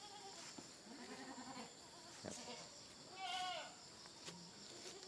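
Goats bleat several times on a Thai palm plantation with livestock, the calls rising and falling at moderate distance over steady outdoor background noise.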